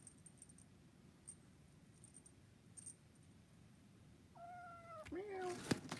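A cat meows a few times near the end, close and fairly soft, after quiet rustling and faint jingling.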